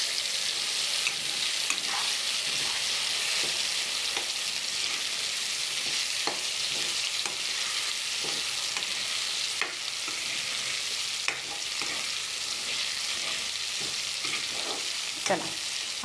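Gravy poured into frying garlic and fenugreek greens for a dhaba-style dish, a loud continuous sizzle and hiss with faint spoon scrapes and clinks against the pan throughout.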